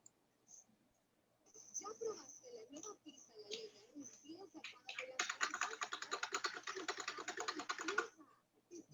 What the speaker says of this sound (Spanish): Está alguien tecleando ahí.